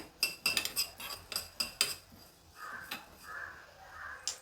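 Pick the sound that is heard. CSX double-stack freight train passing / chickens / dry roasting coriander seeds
dry roasting coriander seeds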